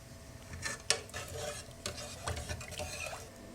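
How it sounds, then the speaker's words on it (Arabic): A spoon stirs ashura, a pudding of boiled wheat, milk and starch, in a pot on the stove, giving soft repeated scraping and clinking strokes with light sizzling, fairly close and quiet, with no talk. "هفضل اقلب كده، البنات اللي لسه مبتدئه يعني نفضل نقلب كده لحد ما تربط معانا"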